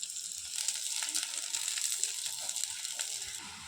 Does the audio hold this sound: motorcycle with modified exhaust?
no